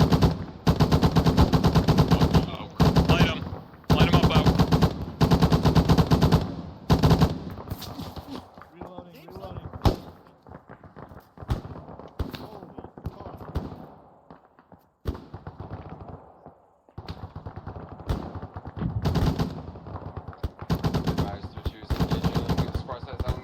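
Bursts of machine gun fire during military squad training, two machine guns engaging a target about 500 meters off, loud rapid volleys in the first seconds and again later, with radio voices talking in the gaps.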